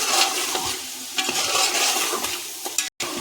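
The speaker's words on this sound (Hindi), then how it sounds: "अब थोड़ा सा इसको भी भून लेंगे।" Coriander and turmeric powder sizzle and fry in hot oil for chicken biryani, a continuous loud hiss broken by scraping stirs, with a brief dropout near the end.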